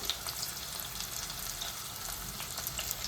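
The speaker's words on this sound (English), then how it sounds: "allow it to fry along with the onions" Onions fry in a pan for tomato rice, giving a steady, close, crackling sizzle that continues throughout with small pops and no voices.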